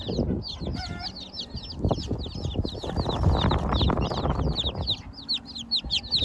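A flock of chickens clucks continuously, with many overlapping short calls and squawks close by. Bursts of rustling and shuffling run underneath.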